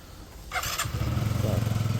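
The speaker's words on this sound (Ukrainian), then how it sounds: "Двигун працює гарно" A Yamaha Jog SA36 four-stroke fuel-injected, liquid-cooled scooter from Japan starts up and settles into a steady, close, throbbing idle with a regular low pulsing beat.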